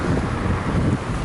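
Strong wind gusting outdoors in a snowstorm, a steady close rumble buffeting the microphone with no talk over it.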